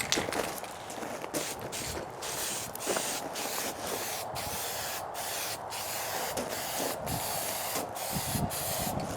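Light coats of thin high-heat paint sprayed from an aerosol can onto a Suzuki Bandit 1250 FA motorcycle part, a continuous close hiss broken by short regular gaps between passes.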